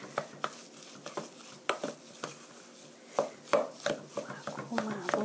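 A spatula mashes and mixes potato salad in a bowl, producing irregular soft taps and scrapes that become denser and quicker toward the end.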